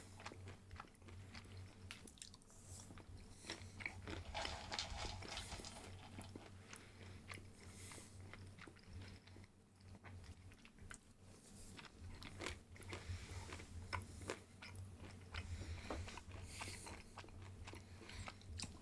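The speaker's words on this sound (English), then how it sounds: "I hope my munching noises are not too disturbing" A person munching on a crunchy snack close to the microphone, with repeated soft bites and chewing crunches over a low steady hum from a submarine video game playing quietly.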